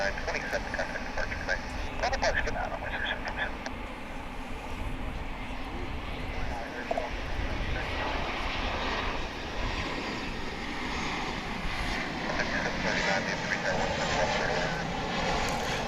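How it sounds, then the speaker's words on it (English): A British Airways Airbus A380 waits for takeoff at Dallas-Fort Worth airport, its engines giving a continuous broad rumble and roar at moderate distance, with outdoor background noise throughout. "you are looking at a British Airways A380 about to take off from Dallas-Fort Worth back home to London Heathrow."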